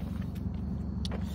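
A twin-turbo 5.7 Hemi car idling in a shop, its steady low engine rumble continuous and close, with a few brief higher clicks and clanks above it.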